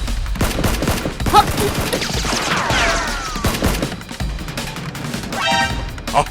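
Nerf guns firing during a staged police SWAT versus criminals battle, with rapid clattering shots, thumps and crashes mixed with shouting and background music, busy and loud throughout.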